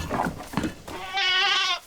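Goats let out of their pen on a farm give a loud, wavering bleat close by after some softer rustling and bleats.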